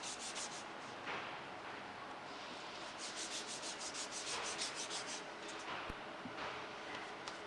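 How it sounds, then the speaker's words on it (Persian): Sandpaper is rubbed repeatedly over the insulation of a power cable while a heat-shrink cable termination is being installed, giving a close, steady rasping scrub in rhythmic strokes with no talking. "خب بعد از اینکه سنباده زدیم مجددا باید تمیز کنیم."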